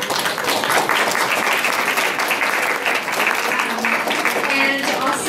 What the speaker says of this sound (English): I want to give another round of applause to our speakers.